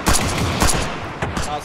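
Rapid bursts of close automatic gunfire in Arma Reforger, sharp loud cracks in quick clusters with a couple of later single shots, voices faintly under the shooting.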